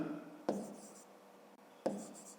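A pen writes a number label onto an envelope in two short, crisp scratching strokes close by, soft and brief, separated by a pause.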